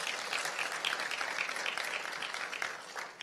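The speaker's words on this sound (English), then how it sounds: "Please give them a round of applause." An audience applauds after a panel session on biopharmaceutical research, giving steady, moderately loud clapping that continues evenly throughout and tapers slightly at the end.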